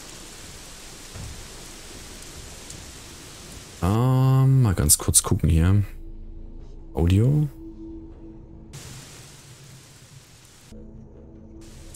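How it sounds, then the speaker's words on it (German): Loud rain hisses steadily in Gothic 3 near a cave, a dense broadband downpour that fills the scene and drops out briefly in places, while someone talks over it. "Wie laut der Regen ist, ne?"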